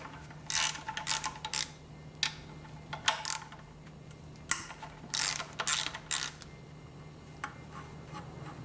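Ratchet wrench clicking in repeated bursts while backing out the two 12mm bolts holding the oil pickup tube on a Nissan KA24DE engine from a 240SX, close and fairly loud with short pauses between strokes, no talking.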